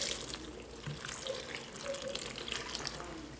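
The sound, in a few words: pouring liquid in to make pudding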